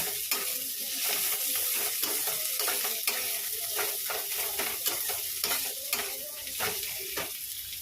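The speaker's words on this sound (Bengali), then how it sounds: "মশলাটা খুব ভালো করে কষাচ্ছি" Spice paste being fried and stirred hard in a pan on a home stove: a steady, loud sizzle with repeated spatula scrapes across the pan, no talking.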